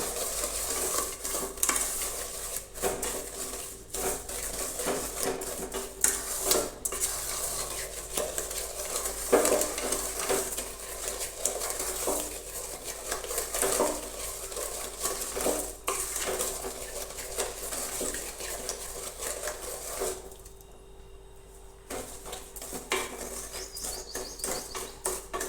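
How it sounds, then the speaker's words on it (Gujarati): A spoon stirs roasted rajgira flour and sugar for sheera in a pan, with near, steady scraping and clinking of metal against the pan over a soft sizzle. Two brief pauses break the stirring, and no one talks. "તો હવે આપણે ખાંડ નાખી દઈશું. તેને પણ હવે આપણે થોડી વાર માટે હલાવીશું."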